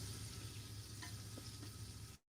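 Beef stew meat browning in a hot pan, with a steady broadband sizzle running nearly throughout at moderate level, a few faint scrape or stir clicks, then cutting off abruptly near the end.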